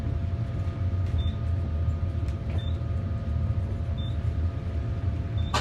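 An old Otis geared traction elevator runs fast through a seven-storey building, producing a steady low motor hum and rumble with faint periodic high beeps or chimes passing floors, close and continuous.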